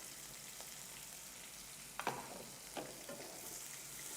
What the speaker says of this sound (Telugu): ఇలా బాగా ఫ్రై అవ్వాలి.